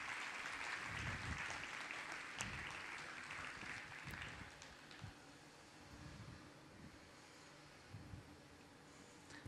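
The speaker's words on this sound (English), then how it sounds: "How about a big round of applause?" Onlookers at a glass artist's demonstration applaud, fairly distant clapping that fades after a few seconds into a low room hum, with scattered thumps and faint voices later.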